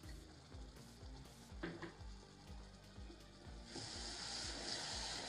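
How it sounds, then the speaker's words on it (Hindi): Tomatoes with a paste and salt are stirred and sautéed for rajma masala. A faint, distant sizzle sits under a low rhythmic hum and grows brighter and steadier toward the end. "इसे हम लगातार चलाते हुए टमाटर को भी अच्छी तरह से भून लेते हैं"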